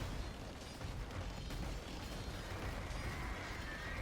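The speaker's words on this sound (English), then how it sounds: "So many explosions, so many cannonballs, arrows, anything and everything." Dense battle noise from an Age of Empires match, with continuous rumbling bursts of explosions and cannon fire blending into a steady loud wash and no pauses.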